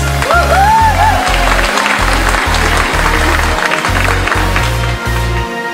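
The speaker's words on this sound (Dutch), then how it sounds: "ga je nog een warm applaus voor Karen Luijs" An audience at a fashion pageant semi-final clapping warmly and continuously, dense applause filling the room under loud pulsing background music.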